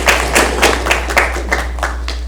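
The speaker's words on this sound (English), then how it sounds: "So please give a round of applause for both teams' advisors." A small audience claps for the teams' advisors at a final presentations event, distinct rhythmic handclaps over a steady low electrical hum, moderately close.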